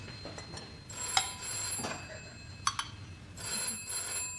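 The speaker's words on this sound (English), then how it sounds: "The phone is ringing." An indoor telephone bell rings in repeated short bursts with pauses between, fairly close and clear, against a quiet room background with no talking.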